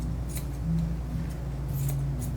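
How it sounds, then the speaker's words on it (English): Ear shears snipping while grooming a Shih Tzu: a few light, quick metallic snips spaced irregularly over a steady low background hum, close and fairly soft. "Now I've got my ear shear."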